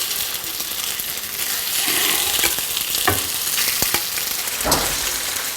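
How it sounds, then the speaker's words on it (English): Chicken for teriyaki frying in a pan, a steady close sizzle with scattered clicks and scrapes of stirring and turning, no voices. "Now we are going to be frying it on a pan"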